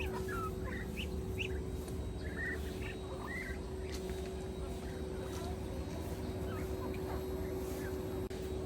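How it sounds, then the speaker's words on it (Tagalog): Chickens and ducks kept on a farm in Candaba, Pampanga, with scattered clucks and bird calls over a steady low hum and broadband noise, fairly faint and continuous, with no voices. "Manok at bibe."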